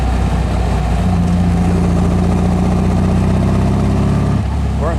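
A car fitted with a 1776 single-port engine drives along in third gear, its steady mid-pitched engine drone continuous and close throughout, easing slightly near the end.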